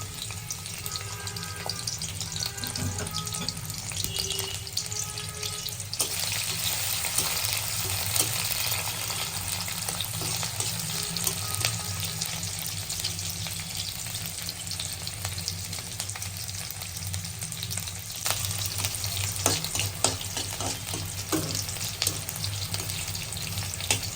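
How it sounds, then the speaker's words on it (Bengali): Chopped onions fry in hot oil for a Bengali-style tilapia dish, giving a steady, dense sizzle that holds throughout, with occasional stirring scrapes and a brief surge of hiss partway through. "তেল গরম হয়ে আসলে আমরা এতে পরিমাণ মতো পেঁয়াজ কুচি"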